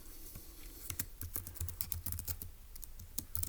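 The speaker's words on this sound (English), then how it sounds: "let's go ahead and type that up in our notes in section F" A computer keyboard is typed on in quick, uneven bursts of soft clicking keystrokes, close and fairly quiet, with no voices.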